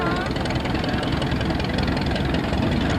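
An antique 1924 tractor engine runs at an early-day tractor and engine show, a steady low chugging rumble with a rhythmic knock that holds constant throughout.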